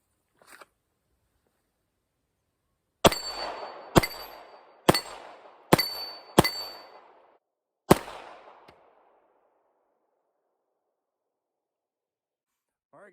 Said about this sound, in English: Shooting steel is a blast.